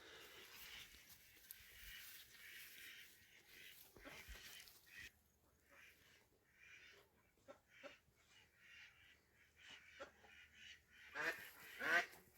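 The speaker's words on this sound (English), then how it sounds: "The ducks are always noisy here." Ducks on a food forest homestead quack and honk in scattered, faint calls at a distance, with a louder burst of quacking near the end and no talking.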